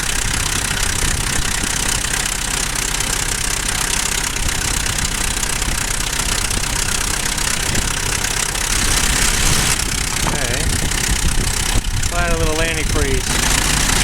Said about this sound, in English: This motor does not sound good.